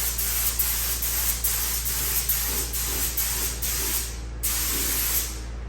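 An air spray gun, fed by a Harbor Freight 8-gallon air compressor, sprays clear coat paint in a loud, steady, close hiss that pulses slightly and breaks off briefly before resuming.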